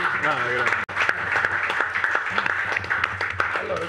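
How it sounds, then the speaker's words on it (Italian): Audience applause at a summer university event on intelligence greeting an arriving guest, a continuous patter of clapping heard under a voice talking over it. "Salutiamo con un applauso per la sua"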